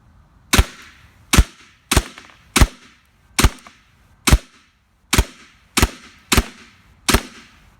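An H&K Umarex KWA MP7A1 airsoft gun fires 0.25 g BBs on green gas: ten sharp, loud, close cracks at roughly even intervals of under a second, each with a short decaying tail, and no talk.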